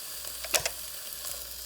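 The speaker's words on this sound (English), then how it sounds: "that sizzle. It's a good sizzle right there." Food sizzles steadily in a hot pan, a constant hiss with a few sharper crackles and pops standing out.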